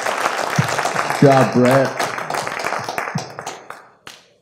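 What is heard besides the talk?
audience applause at a conference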